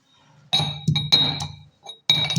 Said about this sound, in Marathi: आपण लसूण जिरेची पेस्ट करून घेऊया.